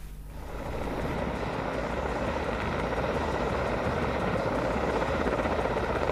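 A helicopter flies during an election campaign in Jharkhand, a loud, steady rotor-and-turbine roar that swells in at the start and then holds close and constant with no voices.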